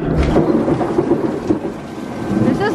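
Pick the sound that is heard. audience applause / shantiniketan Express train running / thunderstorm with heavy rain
thunderstorm with heavy rain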